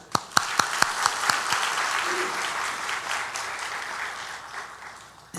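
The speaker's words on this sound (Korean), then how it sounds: "박수" Church congregation applauding during a Sunday worship service, opening with a few sharp, distinct claps that quickly swell into steady, full applause before tapering off near the end.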